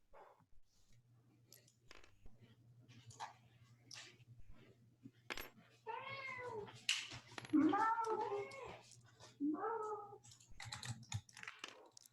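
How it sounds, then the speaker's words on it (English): A cat meows several times in a row, close and clear, during an online tabletop wargame session, with scattered computer keyboard clicks before and around the meows. "there's definitely a cat"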